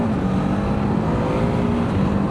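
BMW F450 GS adventure motorcycle pulling away from a stop in second gear, a steady close-up engine drone with a constant low hum, no voices.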